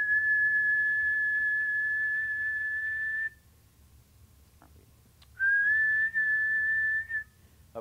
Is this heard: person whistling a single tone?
yes